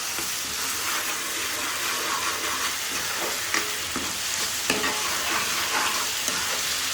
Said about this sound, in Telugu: ఇప్పుడైతే నేను అల్లం పేస్ట్ వేసుకుంటున్నా.